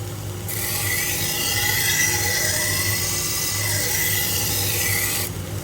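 A Global kitchen knife blade drawn along an AMK-75 1x30 belt grinder gives a steady, harsh rasping grind for about five seconds over a low motor hum, starting and stopping abruptly.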